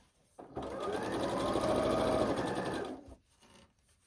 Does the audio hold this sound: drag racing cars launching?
no